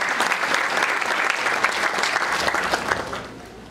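A church congregation applauds, steady dense clapping from many hands that fades out near the end.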